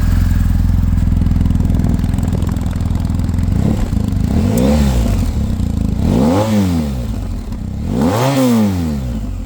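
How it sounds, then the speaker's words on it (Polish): A 2019 BMW R1250 GS Adventure motorcycle engine idles with a rough, clattering rumble, then revs up several times in quick rising-and-falling bursts, close and loud. "Przejdziemy sobie jeszcze do dźwięku samego silnika."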